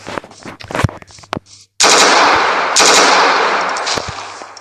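Video game gunfire, a rapid burst of sharp shots followed by a sustained loud roaring barrage of automatic fire that slowly fades, with no talking.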